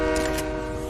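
A train horn blares loudly and steadily through the whole second in a video game, a sustained multi-tone blast with no talk over it.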